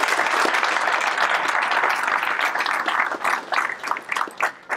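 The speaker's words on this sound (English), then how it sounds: "So please give them a round of applause as well." A room full of people at a swearing-in ceremony breaks into applause for the recruiters, dense and even at first, then tapering into scattered individual claps near the end.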